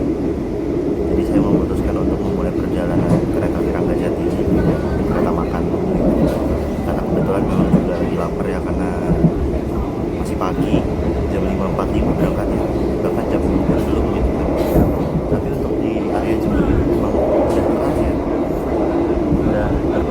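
A steady low rumble and clatter of the Ranggajati passenger train departing Jember station in the morning, continuous and fairly loud, with a voice talking over it.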